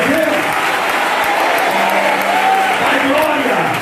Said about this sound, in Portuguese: agora eu quero ouvir mais uma forte salva de palmas misturada com glória a Deus